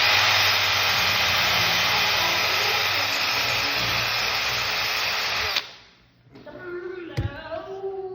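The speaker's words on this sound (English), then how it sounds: "So we're gonna be attempting to drill a little hole through here for a cotter pin." A power drill whines steadily and loudly for several seconds, boring a small hole through metal on a Huskee LT 4200 mower deck, then cuts off abruptly; a brief clank and voices follow.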